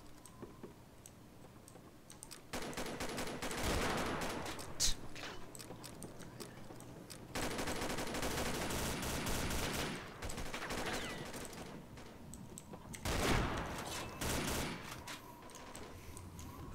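Rapid bursts of gunfire from the Combat Arms shooter game crackle in dense sustained stretches, loud and close, with brief quieter gaps between volleys and no talking.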